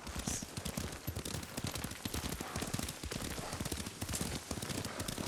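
A horse gallops while ridden in the game Ghost of Tsushima, a fast dense drumming of hoofbeats, loud and steady throughout against a noisy rushing backdrop.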